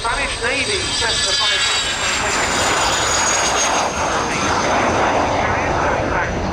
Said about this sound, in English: Getting airborne meanwhile, the Spanish Navy Cessna